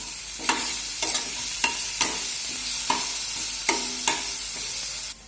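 Vegetables roast in a pan with coriander powder and turmeric, a steady close sizzle punctuated by rhythmic spoon scrapes roughly every half second to second, about eight strokes, with no one speaking.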